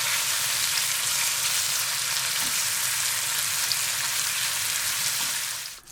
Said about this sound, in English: I'm also frying the rind of the bacon, which will render a little fat,